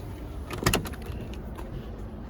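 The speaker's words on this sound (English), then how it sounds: "let me unlock that door for you though," A car door being unlocked by hand on a vehicle with a dead battery, heard as a brief mechanical clunk and rattle near the middle, close and moderately loud over steady background noise.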